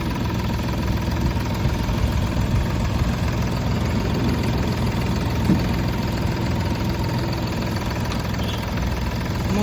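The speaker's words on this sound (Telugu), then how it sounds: "ఇంజన్ సౌండ్ వచ్చేసి కూడా చాలా స్మూత్ ఉంది" A 2014 Hyundai Grand i10 Sportz diesel idling, a steady low rumbling drone that holds even and unbroken from start to finish.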